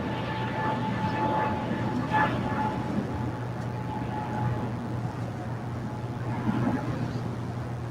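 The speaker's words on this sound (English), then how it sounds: "Looks like there is a Spirit A320 on its way to Houston, making its way down for departure on 25 rights" A Spirit Airlines A320 taxis toward departure at LAX, its engine noise a steady distant broadband roar with a low hum, with faint voices in the background.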